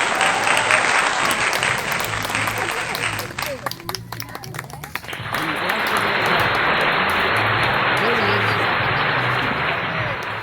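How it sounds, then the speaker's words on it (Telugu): A group of people claps steadily and loudly, with a short dip in the middle before the clapping swells again, while voices talk underneath. "క్లాప్స్ కొట్టండి"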